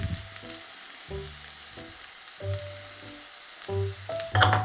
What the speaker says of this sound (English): Once the butter's melted, I'm gonna add in some finely chopped shallots